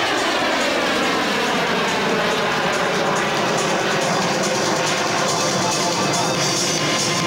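An aerobatic airplane at an airshow snap-rolls and spins toward the ground, its engine a loud, steady roar that swells and shifts in pitch throughout, with no clear break.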